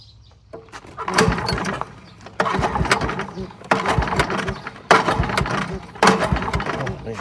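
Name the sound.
Kohler engine on Goodall start-all being pull-started with recoil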